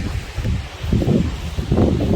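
Strong wind outdoors buffeting the microphone, heard as a loud, low rumbling roar that rises and falls in gusts throughout.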